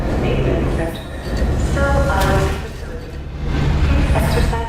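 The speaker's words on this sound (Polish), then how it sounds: "Pociąg, a teraz jest pociąg." Inside the video game F.E.A.R. 2, a moving train rumbles and clatters steadily in the foreground, its noise swelling and easing in waves while people talk over it.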